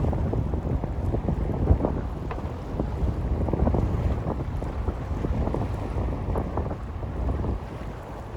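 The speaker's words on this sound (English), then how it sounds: "Every once in a while there's a set of waves" Rumbling surf with waves breaking and washing on a Bahamas shore, heavy wind buffeting the microphone throughout.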